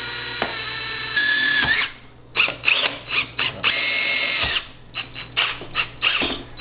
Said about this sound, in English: both holes were drilled